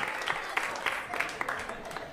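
A comedy club audience applauds, a light scatter of clapping from the crowd that carries on steadily for a couple of seconds at modest volume.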